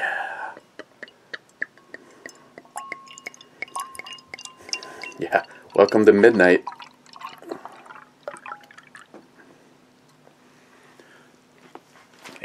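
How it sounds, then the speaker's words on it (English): Imperial stout poured from a bottle, a short burst of splashing liquid midway through, with quiet voices talking before and after. "But here goes the pour."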